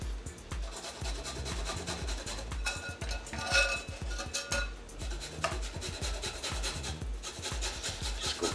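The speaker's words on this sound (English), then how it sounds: "Now I'm going to take my microplaner and I'm just going to put it right on top of the bowl, and the garlic." Garlic is rubbed back and forth across a sharp microplane over a bowl, producing a steady run of quick, close rasping strokes throughout with no talking.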